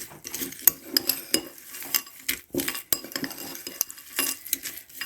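Homemade muesli gets mixed in a bowl by hand, irregular close scrapes and light clinks of a spoon against the dish in quick uneven strokes, without talk.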